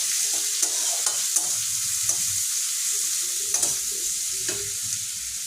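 Cubes of paneer sizzle steadily in hot oil in a pan while a spatula stirs and scrapes them in repeated light knocks, close and continuous.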